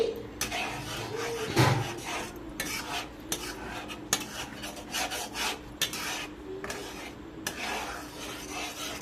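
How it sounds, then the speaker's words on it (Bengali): A spoon scrapes and stirs thickening milk in a metal wok while homemade milk powder is being made, giving a steady run of rasping strokes against the pan with occasional sharper clinks. "এইভাবে অনবরত নেড়ে যেতে হবে।"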